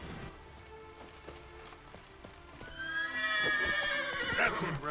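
A horse in the video game The Witcher 3 neighs loudly after a stretch of clip-clopping hooves and patter like rain, the whinny rising and trailing off near the end.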